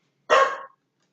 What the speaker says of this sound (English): That was my dog barking, if you heard a dog bark.